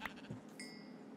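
A single short sheep bleat from Minecraft sounds faintly and alone, followed by a thin sustained tone.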